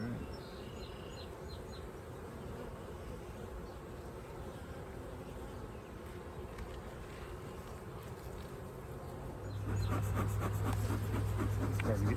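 Agitated honeybees swarming around an open hive during beekeeping, a steady close buzzing drone throughout that swells louder and more intense near the end, with wind noise and faint voices underneath.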